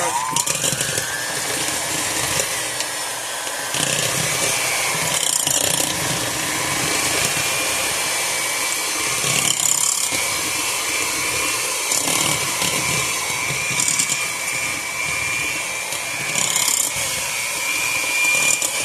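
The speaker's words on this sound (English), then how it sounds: "let's bring our mixer over and get this bad boy going" Electric hand mixer creaming cheesecake cupcake batter outdoors in a quiet yard, a steady loud whirring drone that holds for the whole stretch with slight rises and dips in intensity.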